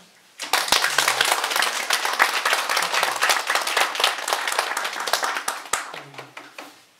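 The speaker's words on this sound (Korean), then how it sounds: "박수" Audience applause at a Korean Won Buddhist mind-study training lecture, a dense burst of many hands clapping that starts abruptly and holds steady for several seconds, with a few faint voices underneath before it tapers off.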